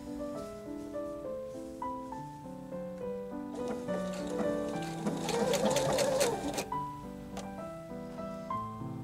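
A sewing machine stitches at a 3 stitch length while repairing a quilt top with bad embroidery, a steady rhythmic whir and tapping that speeds into a busier run mid-stretch, close and fairly quiet with no talk.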